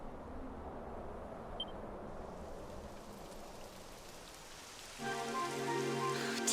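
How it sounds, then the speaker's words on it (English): Rain falling in the video game Dragon Quest XI, a soft continuous hiss of drops on surfaces, fairly quiet, joined near the end by a swelling tonal music cue. "It would have to go and start raining, wouldn't it?"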